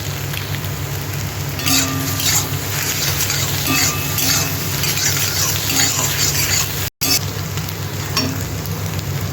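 Egg bhujia frying in hot oil in a pan gives a steady, close sizzle with light scraping and clinks, and a brief dropout near the end.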